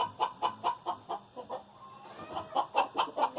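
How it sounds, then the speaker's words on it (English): Chickens on a farm cluck in a steady run of short, bright calls, about ten bursts close together with a brief lull midway, alone without voices. "I can hear the pigs in the background, the chickens, the goats."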